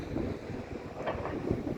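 Steady wind buffeting the microphone, a continuous rough rumble with gusts swelling and easing, no voices.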